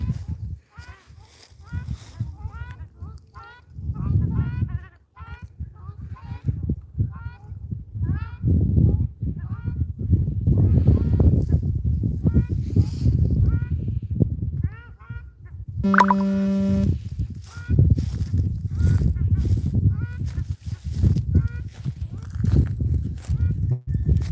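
Geese out on a walk honk and gobble repeatedly, close by, mixed with footsteps, while a person talks over them throughout.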